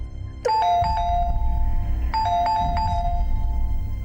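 Doorbell chimes twice in a tonal multi-note pattern, clear and near, over a low background hum in an indoor home setting.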